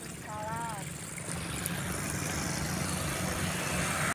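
A motorcycle engine drones steadily while riding on a road, a loud continuous rumble with wind noise throughout and a brief voice near the start.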